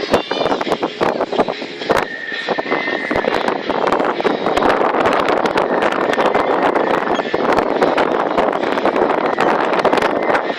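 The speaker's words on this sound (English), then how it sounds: "And you can hear the sound. That's the sound of the wind speed." Steady roaring wind buffets the microphone beside a wind turbine, a constant broadband rush with gusty crackles and thumps throughout.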